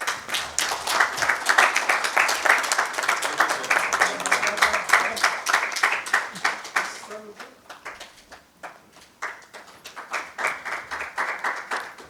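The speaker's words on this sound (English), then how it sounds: "We make a round of applause." Round of applause from an audience at a corporate lenders' meet ceremony, dense clapping for about seven seconds that thins and briefly drops before rising again, close and steady.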